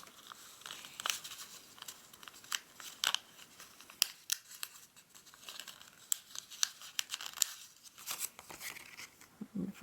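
Paper being folded for an origami blow-and-spin top, faint close crinkles and sharp creasing snaps in an irregular rhythm, with no talking.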